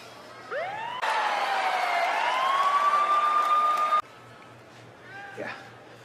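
An ambulance siren sounds during a WWE ambulance match, a single loud rising wail lasting about three seconds that cuts off abruptly, with voices talking before and after it.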